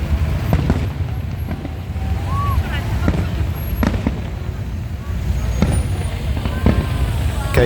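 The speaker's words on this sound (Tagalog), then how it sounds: "Ayan po, ang fireworks display." Fireworks display bursts at the Dinagyang festival near Plazuela de Iloilo in Iloilo City, with repeated distant booms and crackles over a constant roar of crowd and passing traffic.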